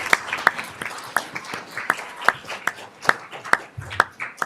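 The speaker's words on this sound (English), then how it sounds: "Let's give a final round of applause to our students from Luther Burbank" A modest audience at a school board meeting gives scattered, fairly close applause to students from Luther Burbank High School, with individual claps standing out over a softer wash of clapping.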